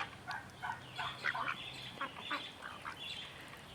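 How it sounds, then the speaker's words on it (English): Ducks quacking in short, loud bursts outdoors, the females carrying the loudest calls, with several overlapping quacks repeating steadily and no talk. "the girls are the ones with the loud quack."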